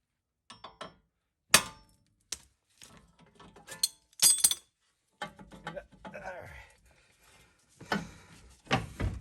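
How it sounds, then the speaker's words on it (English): Several sharp metallic hammer strikes on a stuck tie rod of a Lexus LS430, close and loud, come in irregular bursts with clanking between them, and some quieter shuffling noises follow. "Sometimes it needs the assistance of a hammer just to get it loose."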